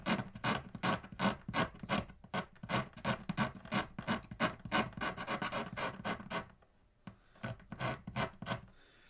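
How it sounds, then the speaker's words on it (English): A broken razor blade scrapes glue off the wood under the bridge of a Martin guitar in quick rhythmic strokes, each a sharp close rasp, with a brief pause before a few more strokes. "I just take this, find the wood grain, and scrape"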